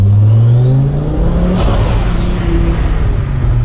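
A loud, close Audi five-cylinder engine revs up to a peak and then drops back down, its rising and falling whine carried over a deep, rough engine rumble.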